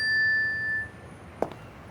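A cell phone gives off a steady electronic ringing tone that stops partway through, followed by a brief sharp knock in a quiet room.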